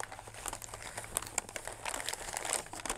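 Paper crinkles and tears as a mystery box item from YoyoFactory and YoyoExpert is unwrapped, a continuous close rustle with sharp crackles and no talk.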